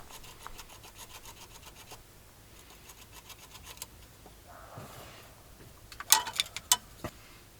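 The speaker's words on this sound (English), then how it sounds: "This is just some sandpaper I use for sanding Bondo." Folded self-stick sandpaper used for sanding Bondo, rubbing in quick, faint back-and-forth rasping strokes, a few sharper scratches near the end.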